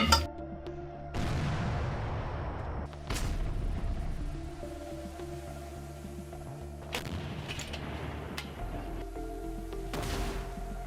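Artillery fire in the Donetsk region booms at a distance, with about half a dozen separate blasts spaced irregularly over a low rumble.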